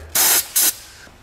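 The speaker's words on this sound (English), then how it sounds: "Silicone spray." Two short, loud bursts of silicone aerosol spray hissing close by, lubricating a rubber part with a clamp during a car engine replacement, the first longer than the second, with quiet in between.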